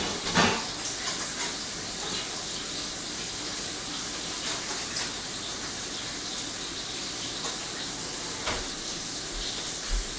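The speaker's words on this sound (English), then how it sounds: "it's getting kind of loud in the kitchen with like the fan and the thing sizzling" Meatballs fry in a pan with a constant dense crackling sizzle that runs for about ten seconds, along with a kitchen fan's hiss and a few faint clinks from the pan.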